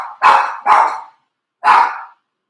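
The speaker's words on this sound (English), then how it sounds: "Makes my dog bark." A dog barks at an automatic vacuum cleaner indoors: three loud, close barks, two in quick succession and a third after a short pause, with no one talking.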